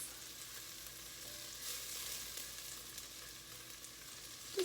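Shallots sautéing in a pan for lentils give a steady, soft hiss of frying with faint stirring clicks throughout, close and fairly quiet, with no voices.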